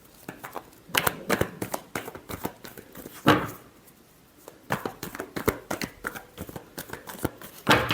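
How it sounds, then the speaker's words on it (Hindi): Tarot cards shuffled in rapid bursts of riffling and flicking, fairly close, with brief pauses between runs and no talking. "Last shuffle."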